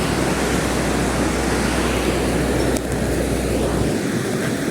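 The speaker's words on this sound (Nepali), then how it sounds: "तल हेर्नुहुन्छ खोला यस्तो उठिरहेको छ" A swollen river rushes below a village bridge after rain, a loud, continuous roar of churning water that fills the whole moment without voices.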